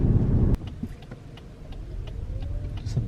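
Interior of a Lexus ES300h hybrid sedan with a CVT on the road, giving a low steady rumble of road and drivetrain noise with faint ticking above it and no talk.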